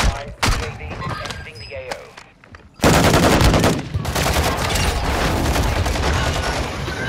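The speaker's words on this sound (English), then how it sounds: "A lot of cross fighting going on right now." Crossfire erupts in a shooter game: a few scattered shots and thuds first, then a sudden loud, sustained burst of rapid automatic gunfire that keeps rattling to the end, with a player talking over the start.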